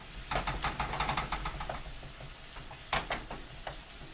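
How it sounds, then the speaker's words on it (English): Ground meat sizzling and browning in a frying pan, with crackling bursts and occasional scraping or stirring knocks as it is broken into small pieces, close and steady. "now your meat should be browning up pretty good right now, so keep an eye on it"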